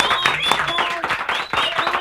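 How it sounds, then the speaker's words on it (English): Studio audience applause on a morning radio show, brief clapping and cheering mixed with lively talk and laughter over it, close and loud. "Big round of applause."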